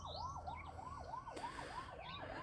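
A wailing emergency siren rises and falls in steady, repeated cycles, sounding some distance away from a farm on the edge of town, with a second siren faintly overlapping.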